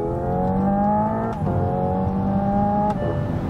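Hyundai Ioniq 5 N electric car accelerating with its synthetic engine sound, heard from inside: rising engine-like tones climb through simulated gear shifts, with two sharp shift breaks, loud and continuous.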